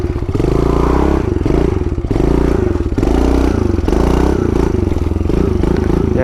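A pit bike engine revs hard during a wheelie, a loud, close, buzzing drone that rises and dips in pitch with throttle changes, along with some rattling clatter.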